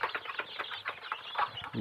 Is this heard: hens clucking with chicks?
yes